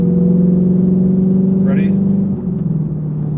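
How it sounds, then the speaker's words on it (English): A Ford Shelby GT350 with its rear seats deleted, heard from inside the cabin with the windows up, drones steadily during a second gear downshift and gives a brief blip of revs near the end, and a voice speaks once. "Let's try a second gear downshift."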